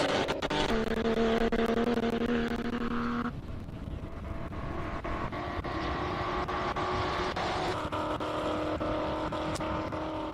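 A 1973 Porsche 911 with a 3.2-litre six-cylinder, fully restored, racing up a hillclimb course in category H4: loud, continuous engine roar that shifts pitch through gear changes, heard fairly close and steady.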